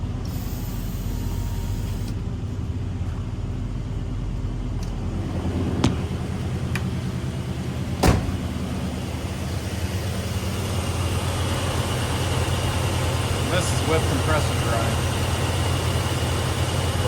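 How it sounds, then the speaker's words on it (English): Two air compressors run steadily inside a 1966 Ford Galaxie with a 289 engine and 200 amp alternator, a continuous low mechanical drone with a couple of sharp knocks, while a person talks over it. "So I got both my compressors running right now."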